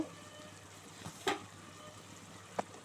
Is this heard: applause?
no